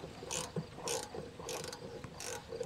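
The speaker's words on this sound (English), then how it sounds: "this one, you gotta get a little socket in there" A small socket ratchet turns out screws on an RV water heater, giving short bursts of quick clicking in an uneven rhythm, close but quiet, with faint handling noise between them.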